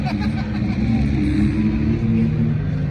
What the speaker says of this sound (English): Limiter on a two-stroke.